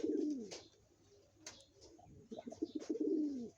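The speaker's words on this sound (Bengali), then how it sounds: "ও কবুতর খাইতে দেখো, কবুতর খাইতে দেখো" Pigeons coo while feeding, soft low throaty calls heard in short bursts with faint rustles and brief sharp sounds between, close by and fairly quiet.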